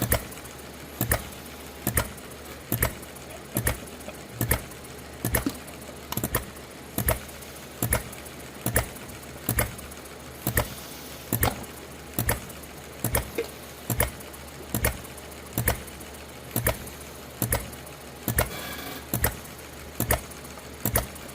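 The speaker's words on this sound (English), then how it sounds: "It's a ball governed throttled engine, but it's a low RPM engine." A ball-governed, throttled low-RPM stationary engine with its gas tank built into the frame runs steadily, each firing a sharp regular chuff at about one beat per second, close and alone.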